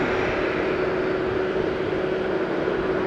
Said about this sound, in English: Got China Airlines over here,